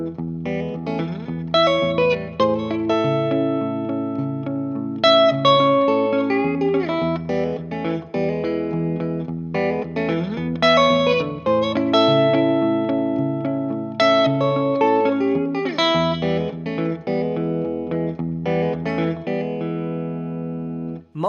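Electric guitar run through looper and effects plays a lead melody over several layered looped parts, a full-band texture with sustained chords and bass, steady and loud throughout with no talking.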